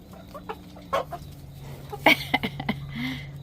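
Roosters cluck in short, scattered bursts close by, a few sharper calls mixed in over a faint low hum.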